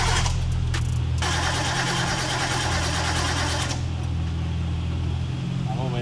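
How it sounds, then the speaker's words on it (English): A car engine cranks to start with a harsh, loud whir, then a steady low mechanical drone carries on, recorded close with no clear talking. "Just to get it to crank real quick, see if it'll start."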